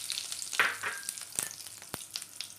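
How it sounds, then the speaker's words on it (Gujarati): Cumin seeds and asafoetida hit hot oil in a pan, producing a soft, quiet crackle with scattered sharp pops and light spatter over a low sizzling hiss. "હવે આપણું તેલ ગરમ થઈ ગયું છે, એમાં નાખીશું આપણે જીરું નાખીશું, પછી હિંગ નાખી દઈશું"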